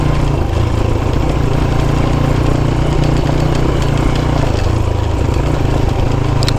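A Honda C90 motorcycle's engine idles steadily and loudly up close, a dense continuous rumble with a constant throb that holds through the whole stretch without a break.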